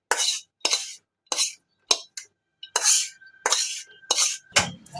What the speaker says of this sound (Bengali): এখন থালার ভেতরে সম্পূর্ণটাকে আমি ঢেলে দিচ্ছি।